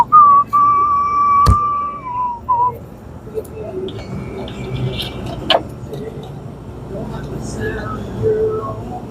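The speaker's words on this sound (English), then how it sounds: "Don't mind my whistling" Someone whistles a clear, steady tune near the microphone while doing a blender repair (replacing a UIM assembly), the melody holding then breaking into short phrases over faint background noise and talk.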